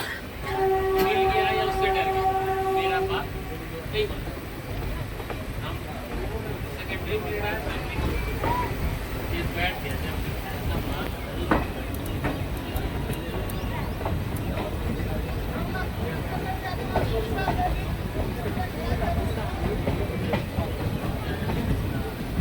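The Tinpahar–Rajmahal passenger train rolls along rails past the hills of Jharkhand in a steady, loud rumble, with horn tones sounding in the first few seconds and voices present.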